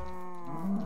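A cow mooing in the Minecraft video game, a low drawn-out bovine call that swells slightly near the end, heard alone and fairly quiet.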